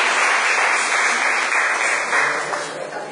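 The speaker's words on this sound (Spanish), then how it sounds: "Damos un aplauso a estos dos." Wedding guests applaud the newlyweds during a church ceremony in Las Minas, Guerrero: a dense, steady wash of many hands clapping, fairly loud and close, holding for about three seconds before easing slightly at the end.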